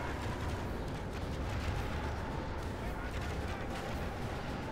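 Medieval II Total War battle noise with archers loosing high arcing volleys: a steady, dense wash of rumbling combat clatter and whooshing, constant and fairly loud throughout, with no clear individual arrow releases standing out.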